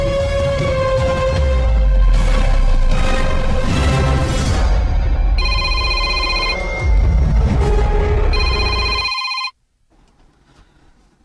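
A cellphone rings loudly with a bright, repeating electronic tone, several bursts of trilling notes over a busy background, then cuts off abruptly into near silence.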